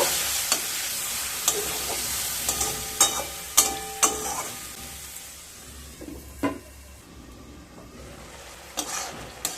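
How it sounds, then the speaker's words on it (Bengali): Cumin powder, turmeric and ginger paste sautéed with a splash of water in a pan for moong dal with cauliflower, a steady sizzle under repeated scraping and tapping strokes of a spatula, close and without talk. "সাথে খুব সামান্য জল দিয়ে মশলাগুলোকে খুব ভালোভাবে কষিয়ে নেব"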